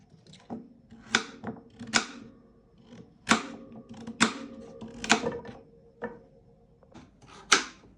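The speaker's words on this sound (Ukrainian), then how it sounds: "Ось я зараз наріжу гарбуз і поставлю його варити." A knife slices through pumpkin in a home kitchen, giving a series of sharp, crisp cuts and taps at an uneven pace, close and fairly loud, with no talking.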